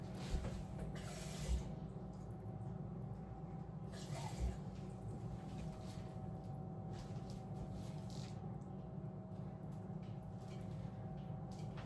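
Tap water runs steadily and quietly into a measuring cup in a home kitchen while baking peanut butter Biscoff brownies, a constant soft rush with no talking.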